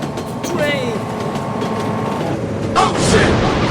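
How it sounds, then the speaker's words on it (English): A train rumbles past near a roadside crossing where car-carrying flatbed trucks travel, a steady loud rush with a sustained horn-like tone, over which a person exclaims excitedly. "Train."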